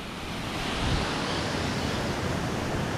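A roadside waterfall rushes in a steady, broadband roar, close and continuous with no break, and no voices over it.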